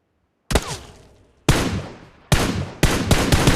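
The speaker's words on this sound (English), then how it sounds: "Tap right fire button to shoot" Four gunshots from a firearm in the shooting game PUBG Mobile, loud and sharp, fired at uneven intervals with each report trailing into a decaying echo, the last two close together; no talking.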